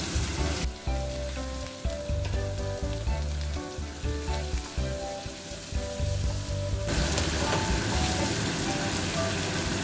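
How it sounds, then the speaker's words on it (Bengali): Onions frying in hot oil, a loud continuous sizzle with bright crackling that swells sharply near the end as the pan hisses harder. "তেল গরম হয়ে গেছে, আমি প্রথমে পেঁয়াজগুলো ভেজে তুলে রাখবো"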